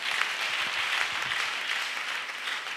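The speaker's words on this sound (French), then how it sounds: "Acclamons Jésus-Christ" Sustained applause and clapping from a large church assembly acclaiming Jesus Christ, a steady wash of many hands without break.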